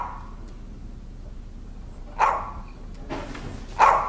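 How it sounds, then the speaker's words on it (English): A dog barks indoors in a hallway, giving a few sharp, fairly close barks separated by quiet gaps. "She heard the dog barking in the hallway."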